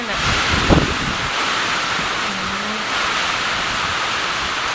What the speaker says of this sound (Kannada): ಎಷ್ಟು ಜೋರಾಗಿ ಗಾಳಿ ಮಳೆ ಬರ್ತಿದೆ